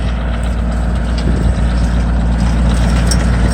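A Kioti LK30 tractor runs a three-point John Deere snow blower with a broken shear pin, a loud, steady, close diesel drone with a deep low rumble and no break throughout.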